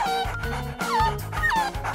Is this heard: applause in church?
no